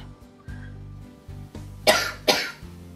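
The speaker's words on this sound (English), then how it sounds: "apply pressure, then have a cough." Two sharp coughs close together, near and fairly loud, over a quiet low hum.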